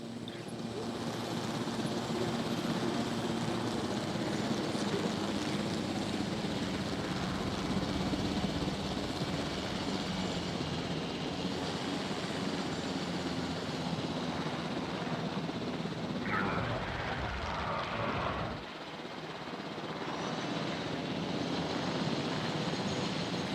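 Helicopter in the dinosaur-park game Jurassic World Evolution, a steady loud rotor and engine drone filling the whole stretch with a brief dip near the end, no talking.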